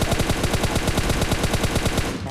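Rapid sustained automatic fire from an M416 rifle in a PUBG Mobile-style shooter game, loud close bursts in a steady rattling rhythm for about two seconds, with no speech.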